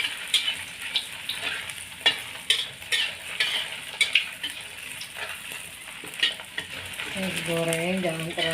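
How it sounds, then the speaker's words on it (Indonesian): Eggplant and small meatballs fry in a pan with a steady, close sizzle, broken by sharp scrapes and clinks of stirring, and a voice joins briefly near the end. "Saya kita goreng terongnya, goreng baksonya kecil-kecil."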